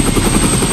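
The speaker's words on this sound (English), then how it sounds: "It takes them almost an hour to get Drew from her hospital bed to the waiting helicopter" A helicopter waits on a hospital roof, its rotor making a loud, close, continuous chopping drone throughout a brief moment.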